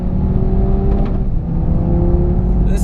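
An Audi TT RS Coupe at speed on a race track, its engine droning loud and steady under sustained load with a constant whirring tone, heard close up from inside the car without talk.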